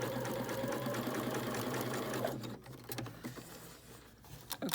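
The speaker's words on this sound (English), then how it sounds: "But of course I'm sewing this curve." A sewing machine runs steadily, stitching a curved seam on a fabric face mask, its motor whir loud and continuous for about two seconds before slowing into quieter, intermittent stitching.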